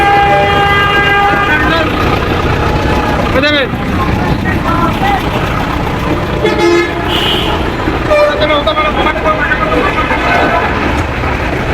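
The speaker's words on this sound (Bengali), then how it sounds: "এটা হচ্ছে চৌরাস্তার অবস্থা। এই যে গাড়ি, ট্রেন, বাস।" Loud, busy traffic at a crossroads intersection with repeated car and bus horns honking over engine rumble, some blasts long and overlapping, close by and continuous.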